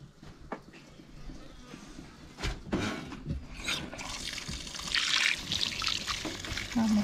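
Water trickles and splashes nearby as chuño, freeze-dried potato, is washed, a soft running dribble that grows louder toward the end.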